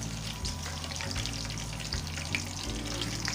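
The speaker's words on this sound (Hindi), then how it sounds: "ज़ीरा कड़कड़ाने लग गया," Cumin seeds crackle and sizzle in hot oil in a pan, a steady close frying hiss with dense fine pops, and no voices.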